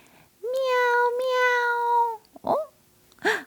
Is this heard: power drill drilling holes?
no